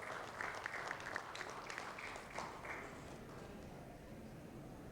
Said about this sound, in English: Come on, can we have a huge round of applause?